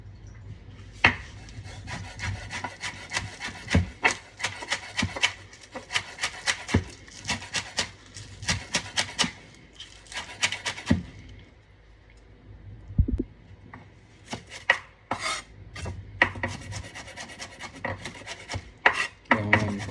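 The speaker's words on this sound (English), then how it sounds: "Cutting these real fine, guys, real fine" Jerk chicken ingredients being chopped finely with a knife on a board, a close run of quick rhythmic taps and rasping cuts that pauses briefly and then resumes.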